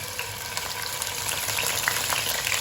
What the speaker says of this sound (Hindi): अदरक लहसुन पेस्ट को अच्छी तरह से फ्राई करेंगे हम इसमें